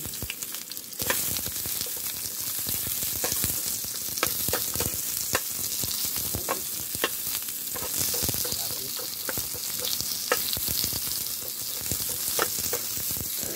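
Onion frying in a pan as the start of a chicken soup: a loud, close, continuous sizzle with constant crackling and popping of hot oil throughout.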